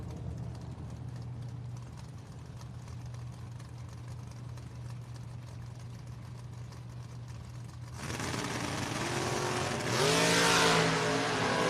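A drag racing car at a fall bracket race event launches down the strip after a quiet, humming stretch, then a sudden loud engine blast that climbs into a rising, revving roar.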